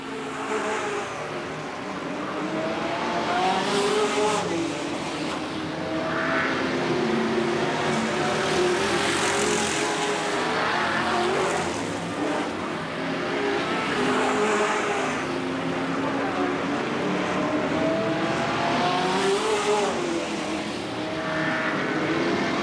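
Race cars on the Riverside Speedway oval during a 1990 main event, engines droning steadily with repeated rising and falling passes as the pack laps, loud and continuous with no voices.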